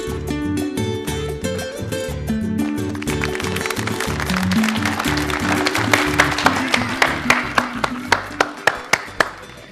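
Audience clapping on a variety program, rhythmic and sharp, grows from beneath music into distinct loud claps near the end.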